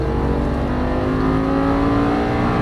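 An Audi R8 race car accelerates hard on a track, its engine roaring loud and steady from up close without a break.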